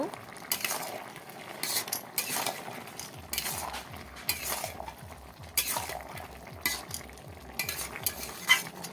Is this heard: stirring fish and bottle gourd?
yes